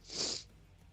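A single short sneeze, sharp and breathy, quite close, followed by quiet room background.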